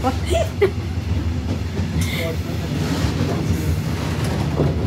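Steady rumble and rattle of a moving train from inside a carriage, continuous throughout, with faint voices in the background.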